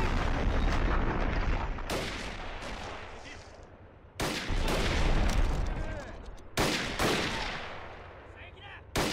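Heavy artillery blasts boom in a war video game mod during a bridge assault, several loud thunderous impacts arriving in bursts with rumbling tails and gaps between them, mixed with distant rifle fire.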